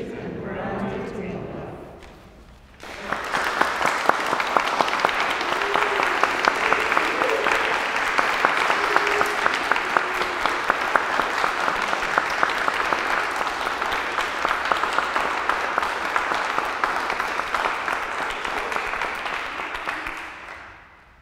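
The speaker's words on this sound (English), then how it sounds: "I think that applause matches any hundreds of people who might have been gathered in here." A cathedral congregation of hundreds breaks into sustained applause at an ordination of deacons, rising abruptly after a spoken passage and continuing loud and steady for nearly twenty seconds before fading.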